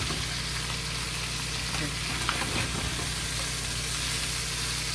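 Fish frying in oil in a pot, a loud, steady, close sizzle and hiss that holds throughout, with a brief spoken word partway through.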